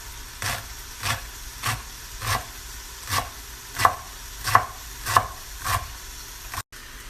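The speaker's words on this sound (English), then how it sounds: "So I'm just going to chop a little bit of the top off first, and then I just go along." Knife chopping celery on a board, about ten evenly spaced, crisp thuds in a steady rhythm, close and clear, with a faint hiss underneath and no speech.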